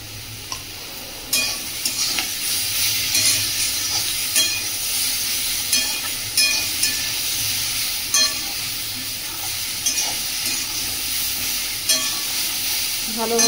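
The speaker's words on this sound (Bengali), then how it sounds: "ভালোভাবে কষিয়ে নিয়েছি" Boiled potato and banana with turmeric sautéing in a pan, a continuous sizzle broken by regular sharp scrapes and knocks of a spatula, about one every second or so, close and clear with no voices.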